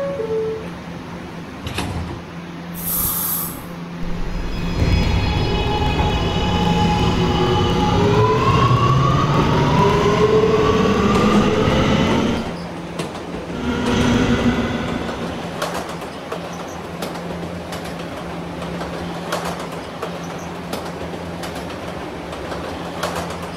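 An R211A subway train on the R line in the Roblox game hums along, then its motors wind up in a rising, layered whine that holds steady before cutting back to a quieter rumble with occasional clanks.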